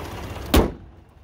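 The hood of a 2017 Ford F-150 Lariat SuperCrew, fitted with a bug shield, drops shut in one sharp, loud thud near the listener, followed by a quieter background.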